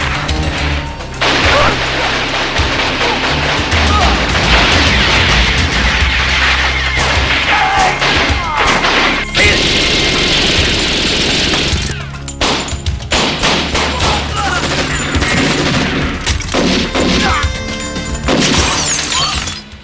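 Action movie gunfire with shattering glass and crashes, loud rapid bursts of shots and smashing debris in a dense barrage, with a voice talking over parts of it.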